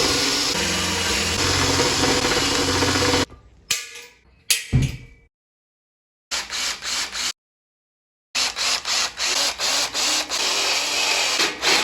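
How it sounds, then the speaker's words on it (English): A power drill bores a series of holes into leftover French cleat wood, a loud whirring drone followed by several short, evenly repeated bursts of drilling separated by pauses. "just drilling a bunch of holes here"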